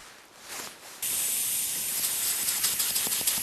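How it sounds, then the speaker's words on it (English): Compressed air hisses loudly and steadily, set at 15 psi to push brake fluid while pressure-bleeding the brakes on a 1959 Austin-Healey Sprite, beginning abruptly after a soft rustle and continuing with slight fluctuations. "The air pressure set at 15 pounds to push the brake fluid."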